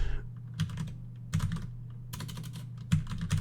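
Bursts of rapid clicking keystrokes on a computer keyboard during a live coding session, clustered in quick uneven runs with short pauses between, close and clear over a low steady hum.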